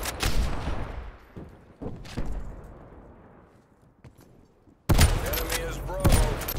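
Sniper rifle shots ring out in Call of Duty Cold War, several loud, sharp cracks with echoing tails separated by quieter gaps, followed by a dense burst of gunfire near the end.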